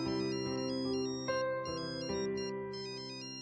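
A mobile phone rings for an incoming call, playing a bright repeating electronic melody loud and alone for a few seconds.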